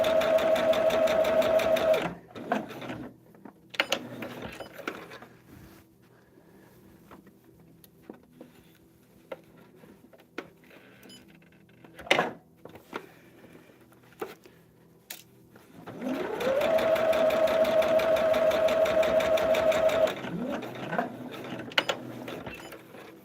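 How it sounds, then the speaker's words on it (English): A sewing machine stitches a table runner seam in two loud steady bursts of fast whirring stitches, separated by quieter clicks and handling noises. "We're just going to sew down that solid line."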